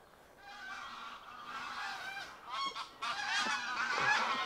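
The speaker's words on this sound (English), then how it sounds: "Okay, I can hear that we've got some birds incoming." A flock of geese flying in over Holme Fen at morning, honking continuously in overlapping calls that grow louder and busier as they approach.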